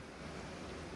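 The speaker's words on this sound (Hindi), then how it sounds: "गाइस आप ये पानी का शोर सुन सकते हैं" Steady rushing water noise fills the whole moment, a continuous broadband wash like a flowing river, with no voices.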